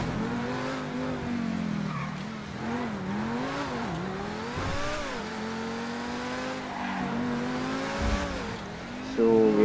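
A powerful track-only race car driven in the video game GTA 5, its engine rising and falling through revs with whining pitch sweeps and occasional tire squeal, steady and fairly close throughout.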